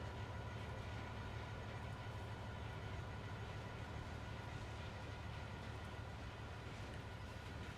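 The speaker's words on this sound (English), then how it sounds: "Rattly carriages." Rattly train carriages rolling along in the Train Sim World 2 video game, a continuous low rumble and rattle at steady moderate level with no voices over it.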